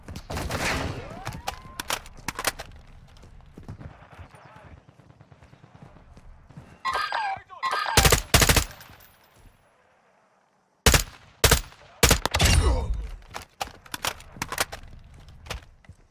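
Gunfire in the video game Warzone 2.0 DMZ comes as sharp shots and short bursts, some close and loud, others fainter, separated by lulls, with footsteps and other game sounds in between.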